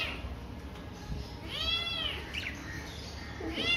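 A house cat lets out two drawn-out, rising and falling meows at moderate distance against a low background hum, with a third meow starting at the end. Faint chirps from pet parrots come through between the calls.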